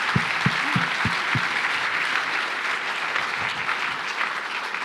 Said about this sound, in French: Je crois qu'ils méritent vos applaudissements.